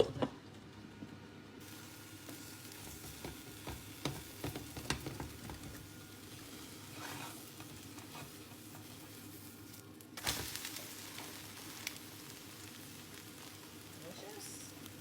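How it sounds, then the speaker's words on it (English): A beaten egg for an omelette fries in a hot pan with a faint, quiet sizzle. Soft clatters come from the egg being moved around to fill the pan. "Add in my egg. Move it around fill the pan."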